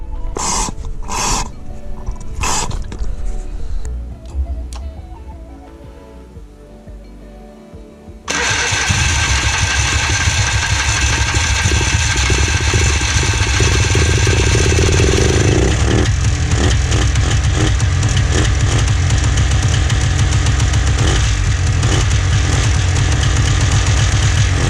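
A cheap $100 quad's engine, running on a sriracha-and-gasoline mix, cranks with a few sputters and catches at about eight seconds. It then settles into a loud, steady, close idle that runs on without a break.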